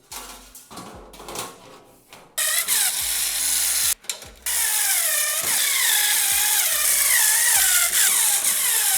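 Case fans are screwed into a PC case with a power screwdriver in short whirring bursts, followed by a long whining, pitch-shifting electric drive, close and alone.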